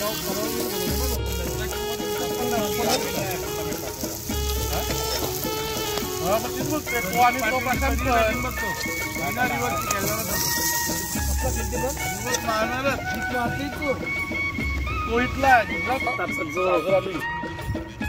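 Fantus fish caught from a creek fry on a tawa pan with a constant crackling sizzle close up, while a person talks throughout and a low rhythmic thump repeats.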